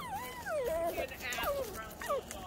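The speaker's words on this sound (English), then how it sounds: "It's a beautiful dog." A dog on a forest and beach walk whimpers and yips in high, wavering whines that rise and fall in a few bursts, close by, over outdoor background noise.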